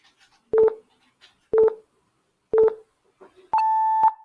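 A classroom timer sounds three evenly spaced double beeps about a second apart, then one longer sustained beep, loud and close with no talk.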